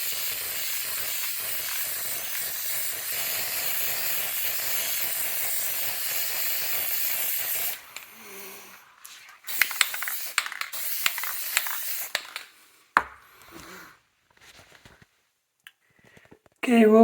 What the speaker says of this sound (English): So now we're ready to take it in and spray with some lacquer.